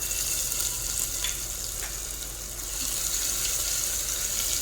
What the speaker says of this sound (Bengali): আদাটাও একটু ভালো করে ভেজে নেব।